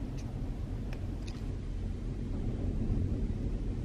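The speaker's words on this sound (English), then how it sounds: "it is super windy." Strong gusty wind roars across a microphone at a California gas station, a continuous low buffeting rumble with a few faint higher clicks, steady and loud throughout with no talking.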